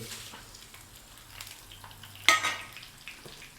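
Mustard seeds, cumin, garlic and dried chillies sizzle softly in hot oil for a tempering, with a brief sharper burst of frying and a clink of a utensil near the middle.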